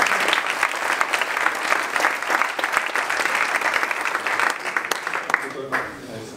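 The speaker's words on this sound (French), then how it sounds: "Avec un gros tonnerre d'applaudissements" Sustained, dense applause from a conference audience, many hands clapping steadily for several seconds before thinning out and tapering at the end.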